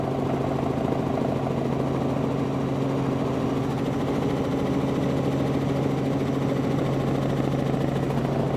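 Steady low rotor and engine drone from inside a helicopter flying over a large anti-nuclear rally at Meiji Park in Tokyo, continuous and even with no talk.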